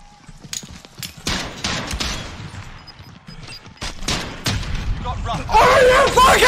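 Gunfire during a Call of Duty Warzone gulag fight, with several sharp isolated shots and bursts spread out irregularly, mixed with voices and louder clutter near the end.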